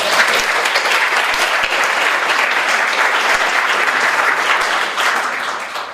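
Big, enthusiastic applause from a church congregation at a mission group's 20th anniversary celebration, loud and continuous, with a few sharp claps poking through before it starts to taper at the end.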